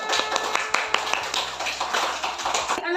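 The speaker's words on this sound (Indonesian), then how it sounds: "Sudah selesai semua, tepuk tangan." A group of schoolchildren claps hands in a classroom, a brisk burst of fairly close, uneven claps with a faint low hum beneath.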